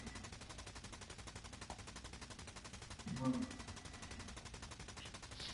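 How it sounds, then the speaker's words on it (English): Rapid machine gun fire in The Division 2, a fast, steady stream of muffled, quiet bursts running continuously under faint background noise, with a brief louder swell in the middle. "I got a machine gun going off in my ear"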